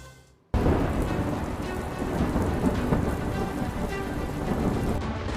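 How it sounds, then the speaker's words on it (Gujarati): Torrential rain pours down in Chennai with a loud, dense roar that starts abruptly and stays steady for several seconds, with no speech. "ચેન્નઈમાં ધોધમાર વરસાદ થયો"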